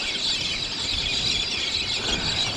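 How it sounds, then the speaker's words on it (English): A flock of galahs calls outdoors near Darlington Point in the early morning, a dense wash of screechy squawks overlapping continuously at moderate distance. "Look at all the galahs."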